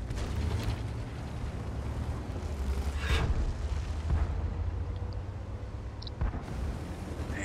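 Tank cannon shots traded in a World of Tanks match on the Steppes map, with a Progetto 46 in the fight: a few sharp booms ring out over constant rumbling engine and battle noise.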